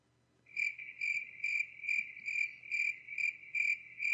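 Crickets chirp in a steady, evenly spaced series of about nine bursts, a clean sound effect standing alone at moderate loudness over a faint low hum.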